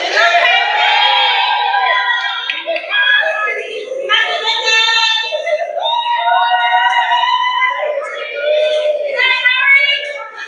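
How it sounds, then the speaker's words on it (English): A British crowd cheers Prince Harry with loud, high-pitched shouts and screams, many voices whooping together in waves that rise and fall without a break. "we are going to listen to the glorious sounds of the cheers of the British people for their prince"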